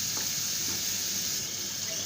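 Alexandrian-style liver with green peppers sizzling in a frying pan, a steady hiss of frying with faint crackles, close and continuous.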